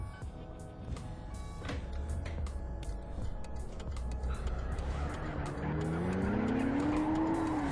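Car drifting with rising tire squeal in the driving simulator City Car Driving, a steady engine drone under a long screech that swells louder over the final seconds, close and continuous.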